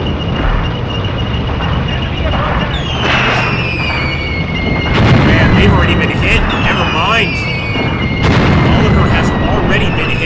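Booming artillery fire with whistling shells in a WW2 North Africa video game battle, dense repeated blasts and rumbling impacts throughout, under continuous commentary speech.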